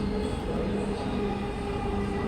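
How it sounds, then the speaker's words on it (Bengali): A metro rail train starts to move, producing a steady low rumble with a sustained electric whine, heard from inside the carriage at moderate loudness with no talking. "তো দেখতে দেখতে আমাদের ট্রেনটি চলতে শুরু করলো"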